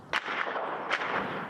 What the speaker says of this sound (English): The unrelenting sound of gunfire is all that fills these streets.